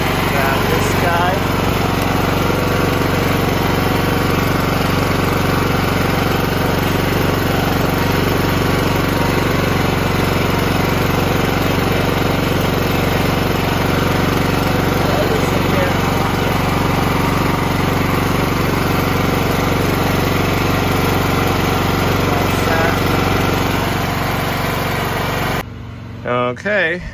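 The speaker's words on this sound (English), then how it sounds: "Oh, you can hear the generator working." A Champion 100520 portable generator drones loud and close with a steady engine hum and rattle, continuous for most of the stretch before cutting back near the end.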